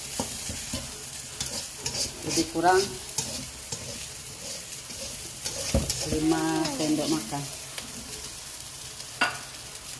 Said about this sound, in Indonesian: Kita mulai, kita tumis daun paku. Ini minyaknya minyak bekas, minyak jelantah,